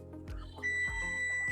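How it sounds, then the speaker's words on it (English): A high electronic beep tone sounds steadily from an oven signalling it has preheated to 350 degrees, faint and somewhat distant, over quiet kitchen clatter. "there's our oven beeping saying that's at 350 degrees"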